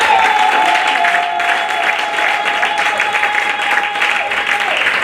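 A church congregation applauds and cheers for Jesus, with dense, continuous clapping and crowd noise throughout and a sustained tone running beneath.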